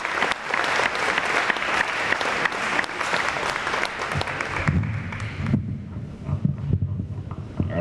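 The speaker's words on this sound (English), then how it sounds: "If we could just give them a round of applause" An audience at a high school senior academic awards ceremony gives a loud, dense round of applause that thins out and stops after about five seconds, leaving low rumbling room noise and handling sounds.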